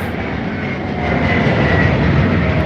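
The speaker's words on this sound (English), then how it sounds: "Again, nice early takeoff." An Aeromexico airliner roars during its takeoff at Heathrow, a loud, steady jet engine rumble that swells slightly and holds, heard alone without any talking.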